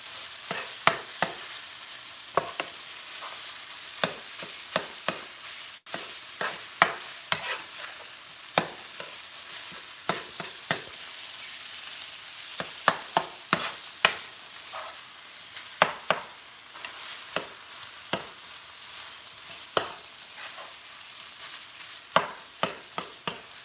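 Chopped lunch ingredients sizzle steadily in a pan while a utensil stirs and scrapes at irregular intervals, sharp clacks standing out over the continuous frying hiss, with no talking.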